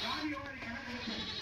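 A young goat bleats while being caught and put in a basket, a short wavering cry close by, with a person's voice talking over it.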